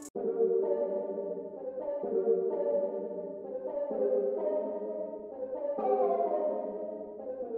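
A layered synth from the same multi-kit repeats the melody pattern in FL Studio, a warm sustained tone with smooth pitch shifts across several overlapping phrases.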